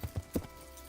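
Horse hooves in the video game Kingdom Come: Deliverance clop three times in quick succession, close and fairly quiet, followed by a short stretch of low background sound.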